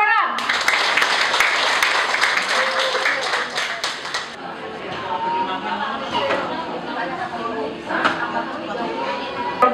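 An audience at a community eco-enzyme gathering in a Jakarta apartment complex breaks into loud, dense clapping that fades into crowd chatter and murmuring, with a few scattered claps continuing afterward.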